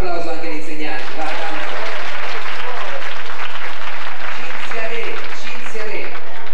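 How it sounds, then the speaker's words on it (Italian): An audience at a 1991 children's poetry contest evening applauds the teachers, a loud, dense burst of clapping with voices and cheering mixed in, heavily saturated and constant throughout. "Facciamo un applauso anche agli insegnanti, va."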